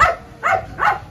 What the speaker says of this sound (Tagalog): Ang lalaki ng mga aso dito.